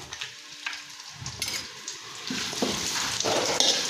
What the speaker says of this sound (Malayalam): സൺഫ്ലവർ ഓയിലും കൂടെ ആഡ് ചെയ്ത് കൊടുക്കാം ഇതിലേക്ക് നമുക്ക് ഗ്രാമ്പു ഏലക്ക പട്ട വഴുന്നയിലയും കൂടെ ആഡ് ചെയ്ത് കൊടുക്കാം